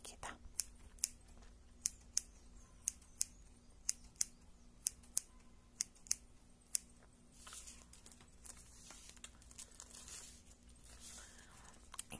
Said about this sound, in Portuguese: Cortar as linhas aqui, tá?